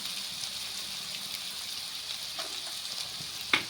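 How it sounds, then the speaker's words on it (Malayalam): Chopped small onions, ginger and garlic fry in oil left over from frying fish, giving a soft, steady sizzle close by with a brief sharper clink near the end. "അപ്പോൾ നമ്മൾ മീൻ പൊരിച്ച അതേ എണ്ണയിലേക്ക് തന്നെ നമ്മൾ അരിഞ്ഞു വെച്ചിരിക്കുന്ന കൊച്ചുള്ളി ഇഞ്ചിയും വെളുത്തുള്ളിയും"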